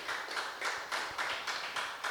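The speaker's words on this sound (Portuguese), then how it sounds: "Pois dê uma salva de palmas para o Senhor Jesus Cristo." A church congregation claps together in a steady, rhythmic beat, with sharp bursts repeating about four times a second. The clapping is soft and somewhat distant.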